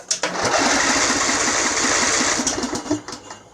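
A Craftsman riding mower's small engine cranks briefly, catches and runs at a steady buzzing rumble, then falters near the end.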